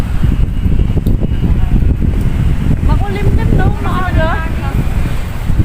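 Gusty wind buffets the microphone with low roaring rumble while a person speaks over it.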